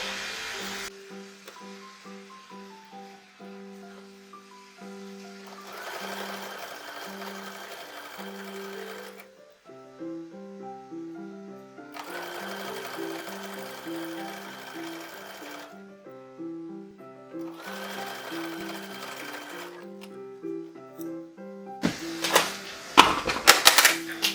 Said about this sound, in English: let's go ahead and sew this up